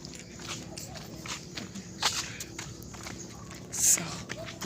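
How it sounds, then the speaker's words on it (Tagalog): Footsteps of a person walking outdoors, irregular scuffing steps at close range, with a voice talking over them and a sharper knock or two. "naglalakad pala ako guys dito"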